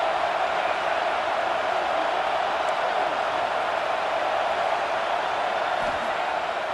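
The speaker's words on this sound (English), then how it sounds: "Big 3rd down as the crowd gets behind this defense." A football stadium crowd roars during a big third down, a dense, steady wash of cheering noise that holds at a constant level throughout.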